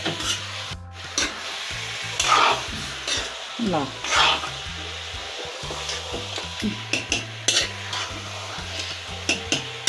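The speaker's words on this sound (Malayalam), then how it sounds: "ഞാൻ അതിൻ്റെ കൂട്ടത്തിൽ ചിക്കൻ്റെ പീസും കൂടി ഇട്ട് കൊടുത്തിട്ട് ഇനി ഇതിനെ കുറച്ച് നേരം ഇട്ടിട്ട് ഞാൻ വഴറ്റുവാണ്" Chicken pieces sauté with onions in a pan, giving a steady low sizzle broken by repeated scraping and stirring strokes of a spoon against the pan, with faint background noise.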